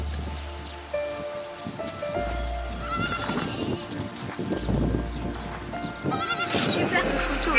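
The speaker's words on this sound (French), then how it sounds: "Oh là là, les biquettes." Goats bleating in the Cape Verde islands, several calls rising over outdoor background noise while people talk nearby.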